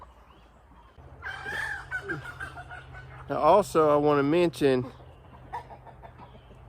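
Hens cluck and squawk in short bursts close by in a coop, with a person speaking over the birds and a steady low hum underneath.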